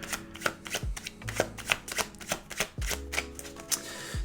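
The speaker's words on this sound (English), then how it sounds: "you can't see it yet because I'm still shuffling through" A deck of tarot cards is shuffled close up, giving a quick run of crisp riffling flicks and soft slaps of cards knocking together, fairly loud and with no talking.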